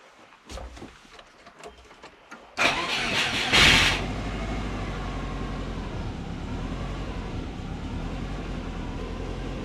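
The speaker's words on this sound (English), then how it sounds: "Right, let's get it started." A car whose engine tune is being adjusted at home cranks with a short whirring starter burst, catches, then settles into a steady, loud idle that runs on evenly and close by, with no talk over it.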